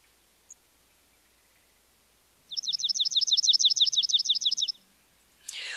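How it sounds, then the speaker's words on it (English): A palm warbler sings a rapid, even trill of high chips lasting about two seconds, clear against quiet surroundings, with a brief rustle afterward. "let's play the song of the palm warbler."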